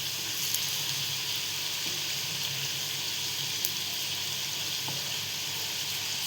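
Potato fingers deep-frying in hot oil over medium heat, giving a steady, close sizzle with faint crackles and no voices.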